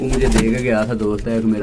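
Pigeons kept by a breeder coo softly in short low murmurs beneath close, continuous male speech.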